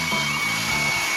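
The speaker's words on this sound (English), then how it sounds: "heat it up with a hairdryer" A hairdryer blows steadily at close range to warm a 3D printer bed, a constant loud whirring hiss with a low motor hum throughout.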